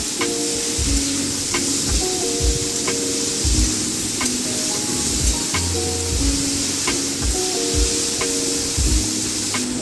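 Mixed vegetables sizzle steadily in a pan with salt and turmeric while cooking flattened-rice pulao, with a spoon scraping and knocking the pan in a loose, repeated stirring rhythm, close and fairly loud.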